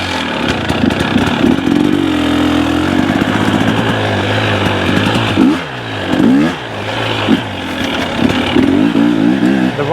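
A Yamaha YZ dirt bike engine running on regular pump fuel drones loud and close, holding steady before blipping through several sharp revs and drops in pitch.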